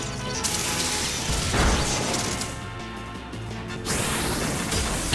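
Thundershock attack sound effect in the video game Pokemon Legends Arceus, a loud crackling crash of electric noise with a burst near the middle and another toward the end.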